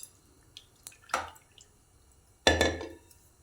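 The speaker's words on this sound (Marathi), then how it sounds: "हे पहा, 2 पाण्याने डाळ चांगली स्वच्छ धुवून घेतली." Moong dal washed in water in a kitchen vessel, a few short splashes and sloshes with faint drips between them, close and quiet, the strongest slosh near the end.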